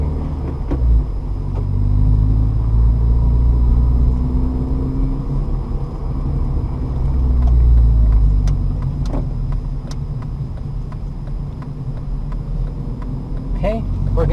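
A manual car pulling away in first gear on a slight hill, its engine rumbling low and close, swelling and easing as it gets underway, with a few clicks and knocks near the end.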